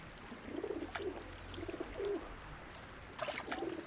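Pigeons in a town centre coo in a few soft, low throaty phrases spaced through the stretch, close by, over a faint background hiss with a light watery trickle.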